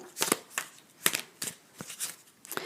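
Quick papery riffles and soft slaps in irregular bursts, close by, like a deck of cards being shuffled, with no talking.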